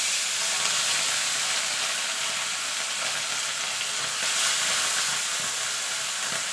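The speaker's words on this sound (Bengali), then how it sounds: "এবার একটা একটা করে মাছ ছেড়ে দেবো।" Bhola fish frying in hot oil in a wok, a steady bright sizzle and hiss that continues evenly throughout, close and moderately loud, with no talking.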